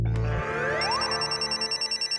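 A phone starts ringing after a brief rising tone, a repeating electronic ring pulsing steadily, clear and close, with no talking.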